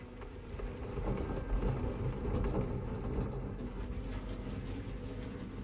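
A low, steady rolling hum of truck tires on a road in the video game Gold Rush: The Game, moderately quiet and continuous, with no engine roar and no voices.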